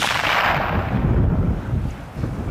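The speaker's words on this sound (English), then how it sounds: "the sound of a gunshot echoing across the tundra" A caribou hunting rifle fires on the open tundra of northern Quebec: one loud blast opens the stretch, followed by a broad rolling echo and wind noise that fade, with a second swell near the end.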